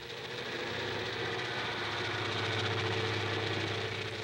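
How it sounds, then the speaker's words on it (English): A train pulling out of Olathe station rumbles steadily with a low engine drone and rhythmic clatter, a constant heavy sound with no voices. "And so the train pulls out of Olathe, last stop of the trip"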